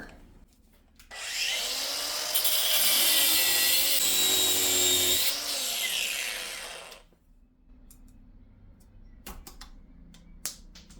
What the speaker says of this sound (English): So, back with the grinder.